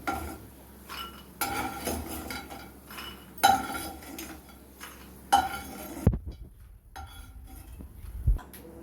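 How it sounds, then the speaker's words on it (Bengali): Fried lentil dumplings being lifted from a pan into a bowl, with close, intermittent metal spoon scrapes and clinks against cookware separated by short pauses, no talk. "আমাদের বড়িটা ভাজা হয়ে গেছে এবার আমরা বড়িটাকে একটা পাত্রে তুলে নেবো"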